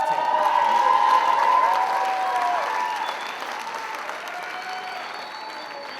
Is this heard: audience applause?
yes